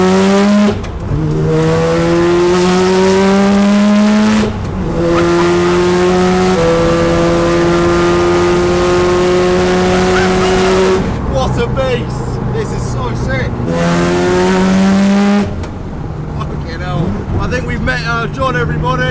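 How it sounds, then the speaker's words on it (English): Mazda RX7 time attack car with a road-legal build and very little turbo lag, its engine revving hard and climbing through gears in repeated loud accelerating pulls, with short gaps at shifts and people talking over it. "we'll listen to the sound of the engine today"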